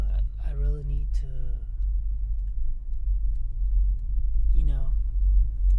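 A car's engine rumbles low and steady from inside the cabin while driving, a continuous deep drone underneath a voice talking briefly at the start and again near the end.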